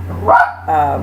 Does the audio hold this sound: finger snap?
no